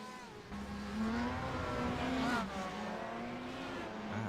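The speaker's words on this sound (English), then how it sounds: "Brett Thurman taking the Speedworks car back out." A race car in the iRacing sim pulls out of the pits at Silverstone, its engine droning steadily and rising in pitch as it accelerates, heard fairly quietly and on its own.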